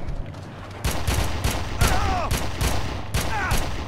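Gunfire in the video game Red Faction, loud bursts of rapid shots crack in quick succession at close range amid ongoing action.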